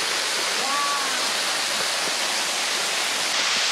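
A small waterfall splashes continuously into a pool at a campground, a dense, even rush of falling water that stays loud and steady throughout, close by, with a faint voice briefly under it.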